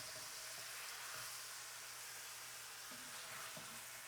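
Cheesesteak meat pieces sizzle steadily in a frying pan as they are flipped, a constant hiss of frying with a few soft scrapes and clunks of the spatula.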